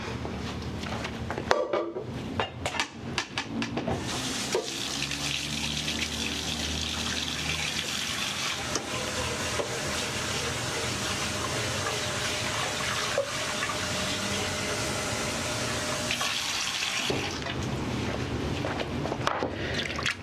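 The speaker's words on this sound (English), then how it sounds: "just literally just run a little hot water over them and let them sit for about a minute" Hot tap water running into a saucepan over soba noodles, a steady splashing stream that starts after a few clattering handling noises and flows continuously before stopping near the end.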